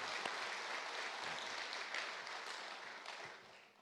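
Church congregation applauding together, a dense sustained clapping that fills the room and slowly tapers toward the end, with little talk over it.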